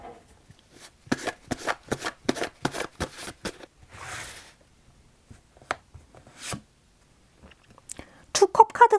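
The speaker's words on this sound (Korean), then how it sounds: "조언 카드 한 장 뽑아보도록 하겠습니다" Tarot cards shuffled to draw an advice card, a series of rhythmic crisp card slaps and riffles close by, followed by a brief rustle and a few scattered taps, ending as a voice begins.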